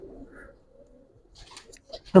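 Giribaz pigeons in a loft give a soft low coo, brief and near, followed by scattered rustles and a sharp knock at the end.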